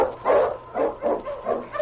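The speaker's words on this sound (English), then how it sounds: "The Wonder Dog King, swiftest and strongest of Eskimo lead dogs, blazes a trail through storm and snow for Sergeant Preston" Husky-type Eskimo lead sled dog barking in a storm and snow setting, four to five loud, close barks in an even rhythm with no voices.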